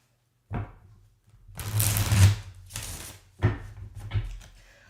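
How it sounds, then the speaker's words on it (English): A deck of tarot cards is shuffled on a table in a few separate bursts, close and moderately loud, with riffling, slapping sounds and short pauses between them. "I want to get a really good shuffle on this."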